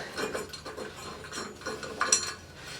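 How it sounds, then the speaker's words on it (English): A ratchet clicks in short, uneven bursts of metallic ticking while bolts are backed out of an EGR component on an engine, close by and fairly quiet. "Take those two bolts out"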